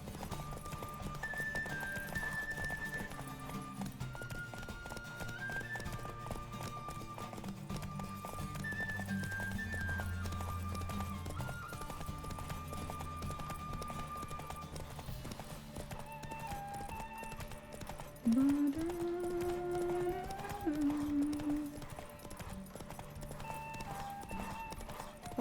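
Roach, the horse from The Witcher 3, gallops through a derby race with steady clip-clop hoofbeats and occasional whinnies, set under continuous game music and crowd ambience throughout.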